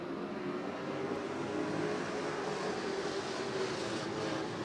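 Stock cars racing at Twin State Speedway in Claremont, New Hampshire, a steady, dense engine roar holding at an even level throughout with no voices.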